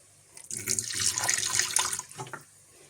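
Liquid poured from a freshly opened bottle into a container, a steady splashing gush for about one and a half seconds, close by, with a brief second trickle after; no talk.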